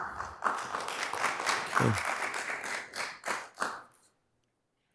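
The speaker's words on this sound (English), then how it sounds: "I'm gonna ask everybody to please hold their applause for the remainder of the meeting" Audience applause at a city council meeting: a few seconds of fairly faint, scattered clapping that thins to several separate claps before stopping abruptly, with one brief spoken word during it.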